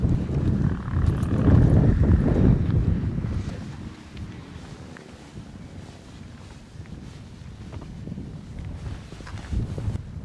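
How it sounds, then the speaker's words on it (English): Strong, cold wind at Independence Pass, Colorado, buffets the microphone in heavy low gusts, loudest at first, then settling into a steadier rushing blow. "It's cold, it's super windy"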